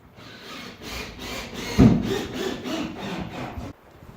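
Hand saw cutting through a 4-by-8 plywood subfloor sheet, a steady run of rhythmic rasping strokes, close and loud, with one heavier knock partway through and no talking.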